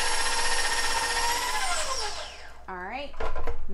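Electric mixer churning chocolate chip cookie dough in a bowl, a steady whirring drone that winds down partway through, followed by a brief voice and a renewed burst of mixing.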